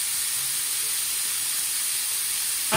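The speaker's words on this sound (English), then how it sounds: "we let our ham sizzle for a bit" Steady bright hiss of ham sizzling in a hot pan, continuous and fairly close, with no voices over it.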